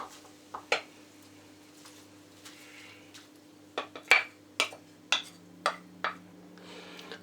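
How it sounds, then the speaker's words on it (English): Fresh ginger is added to a pot of hot water while making Guyanese-style ginger beer, with a series of soft, brief knocks and clinks from the pot spaced irregularly over a quiet background hum. "So I'm just going to add the ginger now."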